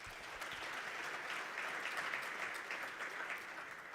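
Steady audience applause at a national green hydrogen conference session in Namibia, a dense wash of many hands clapping evenly for about four seconds with no voices over it.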